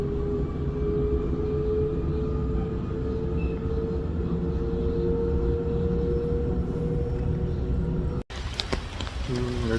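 A Sydney subway train rumbles with a loud, constant low drone and a faint whine for several seconds, then cuts sharply to different rattling noise near the end, with speech under it.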